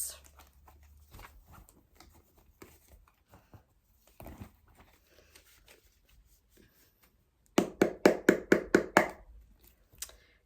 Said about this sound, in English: one more shuffle for Sagittarius